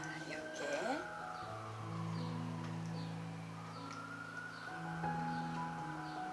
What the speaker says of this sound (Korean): 미국에서 살다 보면 저 사이렌 소리를 참 많이 듣게 돼요